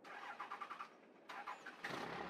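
Engine of a custom-built mini truck starting up: cranking in a quick rhythmic run, a brief pause, then the motor catches and settles into a steady idle, fairly close and alone.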